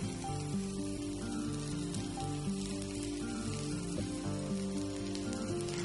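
A Palak paneer dosa sizzles and fries in oil on a hot pan, a steady, close crackling hiss that runs continuously without any talking.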